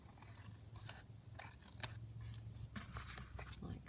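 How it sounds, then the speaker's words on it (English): Scissors trim paper for a scrapbook page layout, several quiet close snips at irregular intervals, with soft paper rustling between cuts. "I'm just going to trim that little bit off the bottom"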